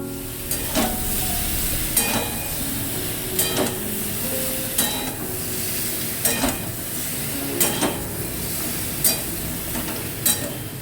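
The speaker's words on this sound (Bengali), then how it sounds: "একটু সময় নিয়ে সমস্ত মশলাটা কষিয়ে নিয়েছি, যতক্ষণ না আদার কাঁচা গন্ধটা যাচ্ছে।" Spice paste with ginger and green chilli frying in a pan carries a constant loud sizzle, with a spoon scraping and knocking the pan in a steady stirring rhythm about every second or so.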